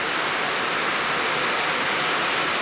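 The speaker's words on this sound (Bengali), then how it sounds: "বীভৎস বৃষ্টি হচ্ছে, বীভৎস।" Heavy rain pouring down, a dense, steady, loud hiss of water without a break, with no voices.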